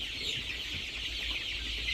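A flock of young makion chicks, around one month to 42 days old, peeps and clucks continuously in a dense, close chorus with no talking.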